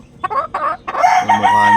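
A sick hen gives a few short clucks, then a longer drawn-out cackle, close and loud.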